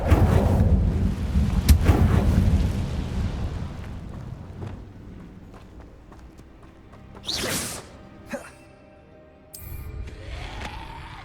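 A fire spell cast in the Hogwarts Legacy game bursts out as a loud, rumbling whoosh of flame. It fades over several seconds, and a few sharp magical swooshes and cracks follow.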